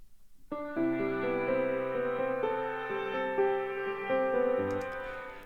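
Sustained piano chords swell and smear into one another with a washed, reversed-reverb quality from a reverb plugin's reverse mode, steady and moderately quiet with no talking.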